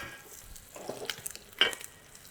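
Seer fish steak searing in a hot pan gives a soft, steady sizzle with a couple of brief louder crackles midway, close by and without talking.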